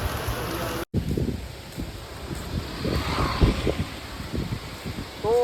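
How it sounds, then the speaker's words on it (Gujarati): Heavy rain pours down over wet roads in Daman, a dense patter of drops mixed with gusts of wind buffeting the microphone, steady and fairly loud throughout. "એક નંબર વરસાદ આવે છે."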